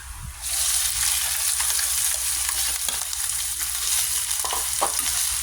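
Bitter gourd (ampalaya) sautéing with garlic and onion in a pan gives a loud, steady sizzle and crackle that runs throughout, with a few soft stirring clicks and no talking.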